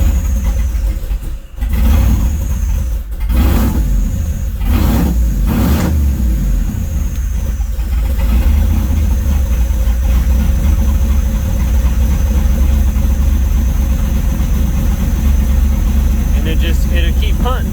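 A supercharged 5.3 engine with an LSA blower in a C10 truck runs on a startup tune, a loud, steady low idle with a few sharp blips early on, close by and continuous.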